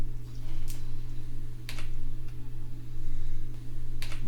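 A computer keyboard is tapped in a few short, sparse bursts of soft clicks, close up over a steady low electrical hum, with no talk.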